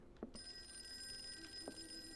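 A telephone rings in the Call of Cthulhu video game, two faint ring bursts about a second and a half apart over a quiet, hissing game ambience.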